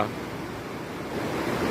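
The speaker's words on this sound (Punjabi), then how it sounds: "ਇਸ ਟਾਈਮ ਵੀ ਮੀਂਹ ਪੈ ਰਿਹਾ ਹੈ" Rain falls steadily in Punjab during Sutlej river flooding, a continuous even hiss of drops that grows slightly denser toward the end, with no voices.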